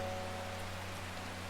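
Soft, steady rainfall plays as ambient background in the video game Strange Horticulture, a constant even patter with a low hum beneath it and no speech.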